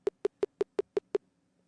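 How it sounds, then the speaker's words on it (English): Seven short, evenly spaced electronic beeps sound in quick succession from a phone on a call line, clean and moderately quiet, followed by silence. "I don't know why that's giving me some beeping on here."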